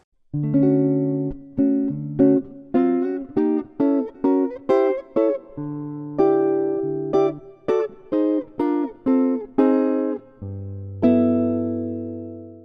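Jazz chord passage built on alternate diminished chord substitutions, a series of crisp struck chords in a steady rhythm, some short and some held, ending on a long sustained low chord, played alone and close.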